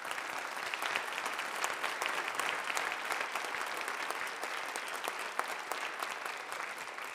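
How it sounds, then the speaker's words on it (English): A concert audience at the 2024 Hastings College Honor Band and Honor Choir performance gives a steady, sustained round of applause, a fairly even wash of many hands clapping heard from a moderate distance, with no talking. "Can we give a round of applause?"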